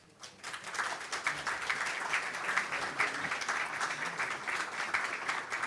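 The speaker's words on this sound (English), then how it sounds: "Please give a big round of applause." An audience welcomes Philippine Secretary of Foreign Affairs Ma. Theresa Lazaro with sustained applause that swells quickly from a quiet start into a steady, moderately loud clatter of many hands.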